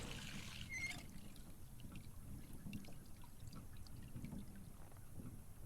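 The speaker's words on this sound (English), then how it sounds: "Rapid flow of hot water. Turn the tap." Hot water runs rapidly from a tap in Botany Manor, a continuous soft gushing trickle that stays fairly faint and even throughout, with a brief high tone near the start.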